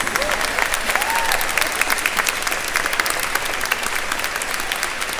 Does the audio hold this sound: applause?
yes